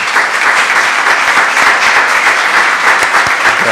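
Dense, steady applause from a seated audience at a book-night literary event, a continuous wash of many hands clapping at full volume with no break.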